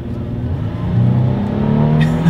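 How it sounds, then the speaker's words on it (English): A 2020 Toyota 4Runner 4-wheel drive accelerating hard, heard from inside as a loud, rising engine drone that climbs in pitch over a couple of seconds, with no talking. "Let's go ahead and do a quick little acceleration test here in our 2020 4Runner"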